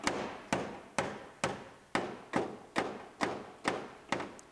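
Steady hammer strikes beat the tire-damaged metal floor of a Ram ProMaster City van back into shape, nine even, duller thuds about half a second apart, close up with no voices.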